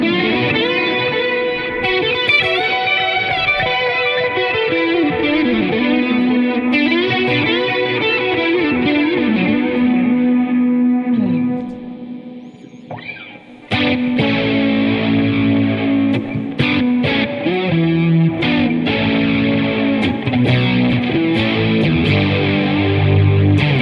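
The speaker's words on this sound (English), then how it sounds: "Here's that Joey Landreth fuzz." Electric guitar runs through a Joey Landreth fuzz pedal placed early in the chain, giving a thick, saturated, sustained tone. Continuous chords and riffs play loud and close, with a brief drop in the middle before the playing resumes.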